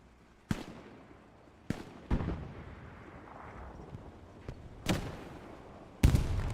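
Rocket explosions in the WWII shooter Hell Let Loose during a competitive match: four or five sharp, heavy blasts at uneven intervals, each with a short rumbling tail, over a steady low battlefield rumble.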